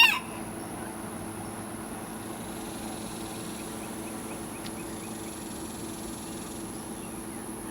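Hens and a rooster in a backyard flock with young chicks give faint, scattered clucks against a steady outdoor background hum, distant and low in level, with no talk.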